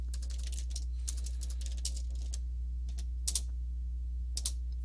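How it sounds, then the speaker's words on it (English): Computer keyboard typing on an Amiga while playing King's Quest, a steady run of light, close clicks in irregular bursts over a constant low electrical hum, with no talking. "Must type a lot of EL words."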